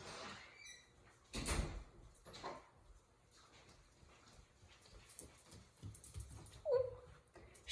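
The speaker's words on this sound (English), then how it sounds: "let me let the dog in" A 15-year-old Jack Russell and Dachshund mix is let in through a door at home: quiet handling and door clatter, shuffling and footsteps, then a brief soft whimper near the end.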